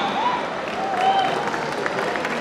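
An audience applauds at a launch event for a comic book about wrestling champion Dara Singh as actress Salma Agha is welcomed, a steady crowd patter with faint tonal sounds and some voices in the background.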